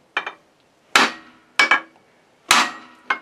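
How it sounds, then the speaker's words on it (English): Hammering on the end of a pulley puller while working on an International T4 dozer engine: five sharp metallic blows, some doubled with a quick rebound, spaced unevenly and close up. "the end of the puller is meant to be hammered on like that"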